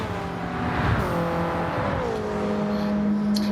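In a Gran Turismo 7 race, a Mitsubishi Lancer Evolution IV race car in McVagger ASR team colours holds a steady engine drone, its pitch dipping as it shifts gears, with faint tire noise behind it.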